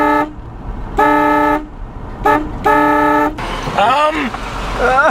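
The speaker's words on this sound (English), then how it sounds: "You gotta honk at people." A 1950s truck horn honks at people in several loud blasts, some long and some short, with people talking and shouting in between.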